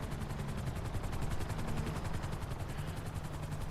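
A police helicopter in GTA 5 gives a steady, close rotor chop made of rapid rhythmic thumps. Loud and constant throughout, with no voices.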